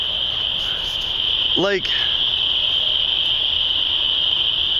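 Tree frogs call loudly at night in a dense, continuous high-pitched chorus that runs throughout, with a single person speaking briefly over it.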